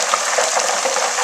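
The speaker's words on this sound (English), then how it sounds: "And that noise is the water being pulled out of the potato?" Loud, dense bubbling and crackling of homemade potato chips deep-frying in hot oil, continuous and close up.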